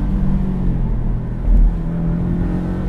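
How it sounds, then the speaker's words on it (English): A Porsche 718 Boxster S is driven on roads in Portugal, and its engine drones steadily with a raspy, buzzing note and a short swell of revs partway through, heard from inside the car. "there's also that Porsche rasp that we love. And you get a little bit of turbo noise with it, too."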